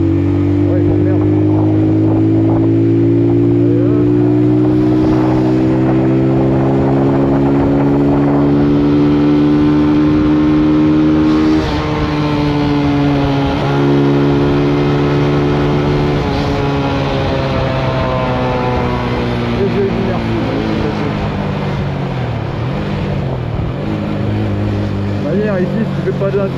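Benelli Leoncino 125 motorcycle ridden on the road, engine loud and steady through repeated accelerations with rising and falling pitch across gear changes, plus constant wind rush, for nearly half a minute.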